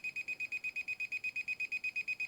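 An SJRC Z5 GPS foldable drone emits a rapid, evenly spaced series of high electronic beeps repeating about seven times per second, thin and fairly quiet, with nothing else audible.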